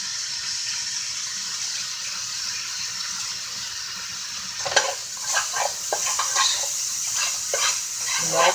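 Oil sizzling and popping in a frying pan while cooking lunch with little sausages, a quiet hiss that breaks halfway into sharper crackles and spatters, no voices.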